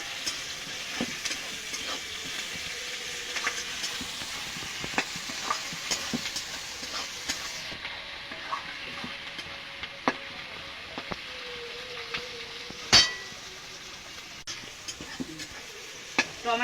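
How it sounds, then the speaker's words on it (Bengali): Onion, garlic and chopped tomato fry in oil for mutton kosha, giving a soft continuous sizzle broken by scattered scraping clicks as the spatula stirs the pan, with no talk. "টমেটো দেওয়ার পর আমি আর একটু ভেজে নিয়েছি"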